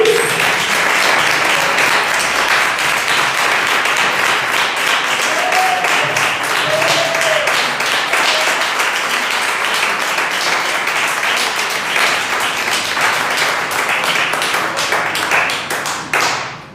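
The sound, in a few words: congregation applauding for Jesus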